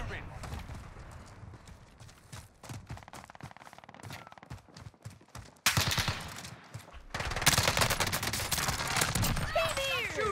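Gunfire in Call of Duty: Warzone (Cold War), rapid bursts of automatic fire that keep going throughout, rising to louder, denser volleys in the second half, mixed with game sounds while players talk over it.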